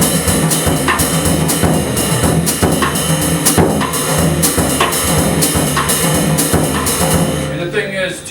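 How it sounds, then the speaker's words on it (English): A drum set plays a baião rhythm, the Afro-Latin dance groove, in its pure form. Steady, loud, closely spaced hits of kick, snare and cymbals repeat in an even syncopated pattern for the whole stretch. "in its pure form, a baião would sound like this"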